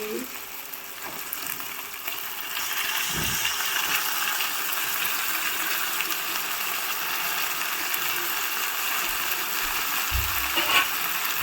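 Marinated mutton goes into a hot kadai, setting off a steady broadband sizzle with a few soft knocks from the pan and spoon.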